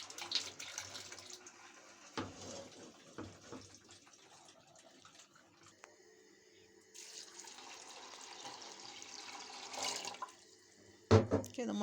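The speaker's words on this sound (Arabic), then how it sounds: "ونحط لها مية ونولع عليها" Water splashes and trickles from a tap into a cooking pot of wheat grains in a kitchen, a faint, uneven pouring with occasional clinks.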